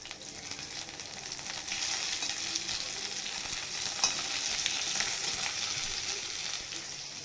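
Food sizzles and crackles steadily in a hot pan while vegetables for a Bengali-style sour fish dish are fried and stirred, a continuous bright hiss with occasional pops and no voices.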